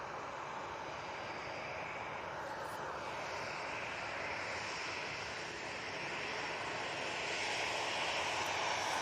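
TUI Boeing 737 MAX 8 airliner departing Manchester Airport, a distant broad jet roar building gradually and growing louder toward the end.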